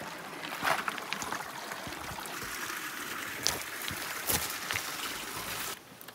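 Creek water flows and splashes around someone wading through it in a forest, a soft continuous rush with occasional sharper splashing steps, fairly close but low in level.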